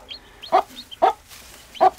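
A hen clucking several times in short, evenly spaced calls, close and clear, with a few thin higher chirps between them, as though from chicks.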